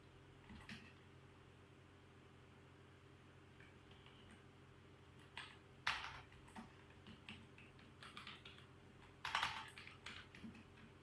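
Quiet clicks of typing on a computer keyboard while working on a document in Microsoft Word: scattered soft keystrokes in short bursts, faint against a low room hum, with a couple of sharper taps and no speech.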